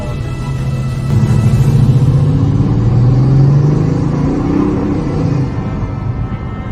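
A car that had a connector not pushed in properly, now with no engine light, runs and drives: a steady, close engine rumble that swells as it pulls away and then settles, with no talking.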